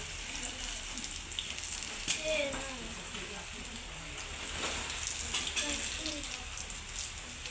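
A soft, steady hiss of rain falls throughout, fairly faint and even, with a few light taps and no talking.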